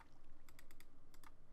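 Rapid computer keyboard typing during a Minecraft server session, a steady run of crisp clicks in two clustered bursts, close and fairly quiet with no talking.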